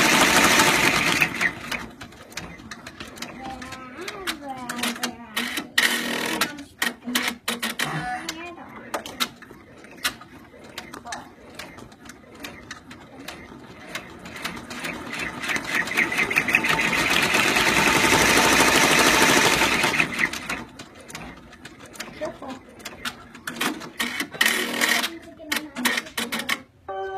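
A sewing machine stitches a snap tab in short rapid bursts separated by pauses, then runs in one longer sustained stretch before returning to brief bursts. Faint voices may be present in the background.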